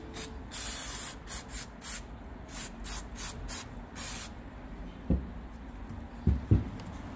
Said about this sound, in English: I'm going to have my trusty assistant Jay, he's going to spray it down, give it a cleaning.